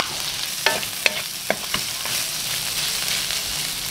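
Loud, continuous sizzling of food frying in hot oil, with a few sharp pops and spatters early on and steady crackle throughout.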